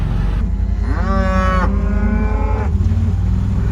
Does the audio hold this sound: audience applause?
no